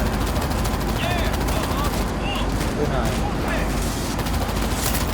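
Dense, continuous gunfire from a World War Z zombie-shooter game, rapid bursts layered into a loud, unbroken barrage with a voice talking over it.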